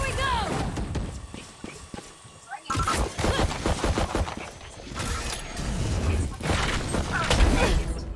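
Rapid gunfire in the game Valorant, quick bursts of close shots in fast succession mixed with clacking mechanical and footstep sounds, with a voice talking over parts of it.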